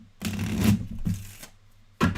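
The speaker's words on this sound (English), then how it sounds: "And the rest of these vegetable cards here, they get shuffled thoroughly." Vegetable cards from the Abandon All Artichokes card game being shuffled up close: three crisp riffling bursts, the first long, a second after a pause, and a third starting near the end.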